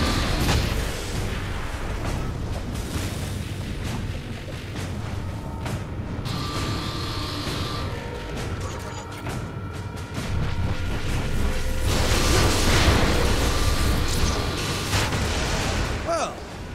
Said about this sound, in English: Well, that explosion should take care of him.